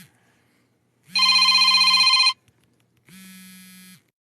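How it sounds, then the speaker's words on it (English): Mobile phone ringtone in two loud bursts, an electronic trilling ring with a steady low hum beneath, the first burst stronger and longer, the second quieter, with silence between and no talking. "I don't even understand how my phone is actually ringing"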